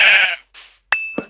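Sheep bleating in the video game Minecraft, several short bleats in quick succession, fairly loud and clear with no talk over them.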